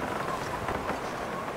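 Wind gusts and rushes steadily in the game The Long Dark, a broad, moderately loud blustery roar with slight swells and no speech over it.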